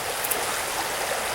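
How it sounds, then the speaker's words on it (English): A creek trickles and rushes steadily along a trail at Hannacroix Creek Preserve, a constant close wash of water with no break. "the waves of the water trickling at him"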